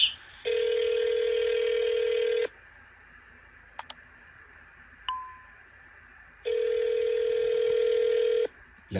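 Ringback tone on a telephone call to the Nicaraguan embassy and consulate: two long, steady buzzing rings with a quiet gap between, a couple of faint clicks and a short beep in the pause.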